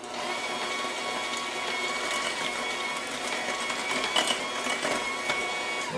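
Electric mixer beating eggs into gluten-free, flourless brownie batter, giving a continuous close whirring motor hum with light rattling for the whole stretch.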